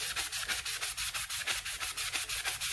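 Fine sandpaper is rubbed back and forth over the lip of a tumbler in quick, even strokes, producing a close, regular scratching rhythm of roughly seven strokes per second with no talking.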